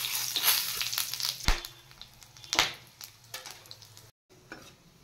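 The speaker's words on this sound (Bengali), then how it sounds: "মাশরুম নামিয়ে এবার আমি তেলে দিয়ে দেব গোটা শুকনো লঙ্কা, তেজপাতা, গোটা জিরে আর গোটা গরম মশলা" Whole dried red chillies, bay leaf, cumin seeds and whole garam masala frying in hot oil, a quiet sizzle punctuated by a few sharp crackles and spoon scrapes.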